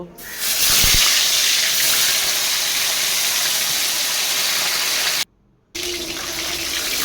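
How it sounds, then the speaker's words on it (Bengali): A loud, continuous hiss of bhola fish frying in hot oil, cutting out briefly near the end before resuming. No one speaks. "এই বাকি মাছ দুটোকে এখন আমি ভেজে নেব"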